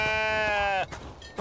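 Sheep bleating in a video game: one long, loud, wavering bleat lasting most of a second, followed by quieter game noise.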